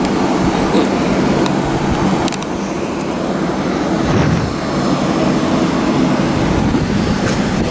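A Regio passenger train rumbles steadily at a station in Wronki, Poland, a broad continuous roar of wheels and engine with occasional metallic clicks and squeals, no voices.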